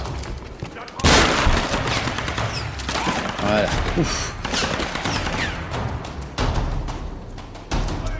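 Gunfire in the Tomb Raider video game crackles as dense, continuous bursts of rapid shots and thuds, loud and close, with a brief pause before heavy firing resumes, and someone talks briefly over it.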